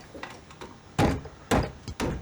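Heavy pounding knocks on a door in a drama scene, three loud close blows spaced about half a second apart after a few faint softer taps, with no talking.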